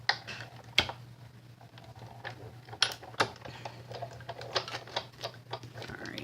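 Paper run through a Big Shot die-cutting machine for a handmade Christmas card, heard as scattered mechanical clicks and ticks cranking along at close range in a quiet room.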